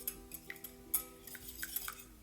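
One large egg whisked briefly in a mixing bowl for chocolate cupcake batter, giving quiet, irregular light clinks and taps of a utensil against the bowl, close and soft, with no voices.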